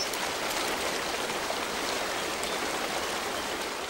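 A rushing Alpine mountain stream, a dense, even roar of turbulent water close by, continuous and unbroken with no other sounds.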